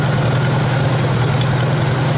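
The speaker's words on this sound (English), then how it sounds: "I guess you get a tractor engine that's worn out enough, it starts easy every time." A worn-out antique tractor engine idles steadily with a deep, continuous rumble and low throb, loud and close, with no talking.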